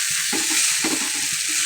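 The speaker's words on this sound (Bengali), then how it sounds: "নেড়ে মিশিয়ে নেব ভালোভাবে" Boiled noodles stirred in a hot pan, a steady bright sizzle with soft scraping strokes of a spatula repeating every half second or so, close and alone.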